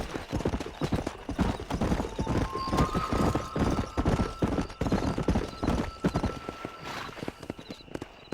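Horse galloping in the video game Red Dead Redemption, with fast rhythmic hoofbeats continuing throughout, plus a brief whinny and some faint background tones.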